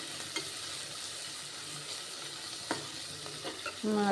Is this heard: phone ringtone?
no